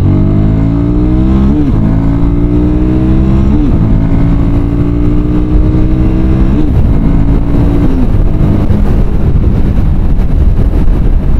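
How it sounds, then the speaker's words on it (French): A Royal Enfield Guerrilla 450 motorcycle pulls hard from second gear onto a main road, its engine loud and close, rising in pitch through several revving pulls broken by quick gear changes. "On va s'insérer sur la nationale pour pouvoir accélérer."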